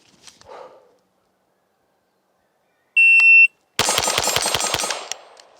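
A Taurus RPC pistol fires a bill drill at an AC steel target about 10 to 12 yards away: a sharp timer beep, then six loud, rapid shots in a quick even string.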